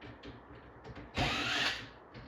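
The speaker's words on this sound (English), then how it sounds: "So let me take these 2 screws back out." A power drill backs screws out of a plywood arcade control panel, with short clicking bursts and one louder half-second whir of the motor, close and alone.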